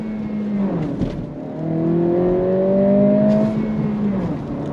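A 2025 Acura Integra A-Spec pulls away under throttle, its engine note climbing steadily in pitch through a brief dip, heard loud and close from inside the car.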